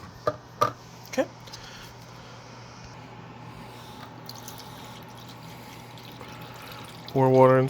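Purified water poured into a Petkit Eversweet Solo SE cat fountain, a few sharp clicks early, a quiet stretch, then a loud close pouring gush at the end.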